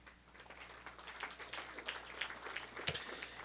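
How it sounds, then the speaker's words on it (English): Sustained audience clapping in a school board meeting hall, moderately loud and even, with one sharper louder clap standing out near the end. "Keep that clapping going, you're only halfway."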